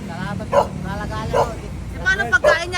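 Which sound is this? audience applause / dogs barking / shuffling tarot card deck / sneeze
dogs barking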